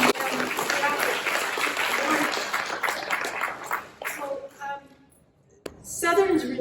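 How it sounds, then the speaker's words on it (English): An audience at an annual award ceremony applauds the recipients in a full burst for about four seconds, then the clapping thins out and fades into quieter room noise and a voice. "you should be applauded. We're going to be applauding them throughout."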